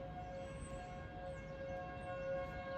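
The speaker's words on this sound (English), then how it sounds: "My siren system in my county is under the same system." A civil defense siren sounding for a tornado warning in northern Rock County, a faint, steady wailing tone heard from a distance over low background noise.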